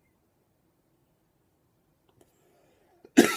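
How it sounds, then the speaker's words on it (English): One short, sharp throat clearing comes close to the microphone right at the end after near silence, a rough burst that fades over a moment. "Let me clear my throat."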